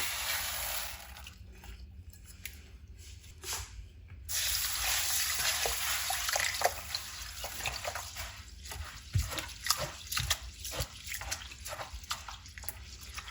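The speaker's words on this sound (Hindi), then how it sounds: "ये मैं अभी इनको अच्छी तरह धो के तो इनको भिगो दूंगी" Soaked lentils and wheat are rinsed by hand in water, giving irregular splashing, trickling and sloshing with rhythmic swishes in the second half, close and fairly loud, with no talking.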